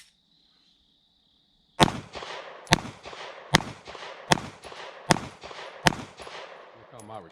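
Six sharp 9mm pistol shots from a Glock 43, fired one at a time at a steady pace about a second apart, loud and close, each followed by a short ring-out. A brief high tone comes before the shots, and a voice speaks once.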